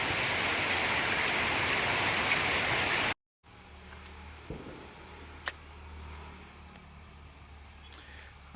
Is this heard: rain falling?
yes